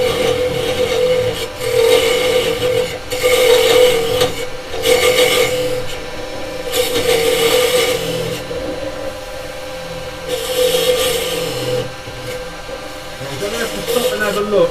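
A carbide chisel cuts side-grain wood on a lathe while a pen and pencil pot is turned, giving a steady rasping scrape that rises and falls in bursts over a constant motor hum, with someone talking over it.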